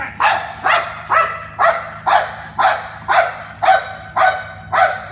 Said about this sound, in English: dog's going to bark